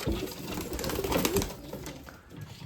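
White pigeons offered for sale coo softly in a steady, close murmur of overlapping calls, with a busy background of bird noise and no talking.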